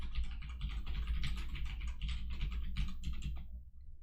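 Typing on a computer keyboard, a steady dense run of key clicks that continues for nearly the whole stretch before trailing off, fairly close and alone with no talk.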